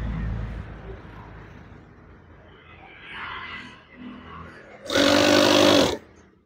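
Sewing machine stitching curtain fabric, a short loud burst of running stitches near the end after quieter rustling handling sounds.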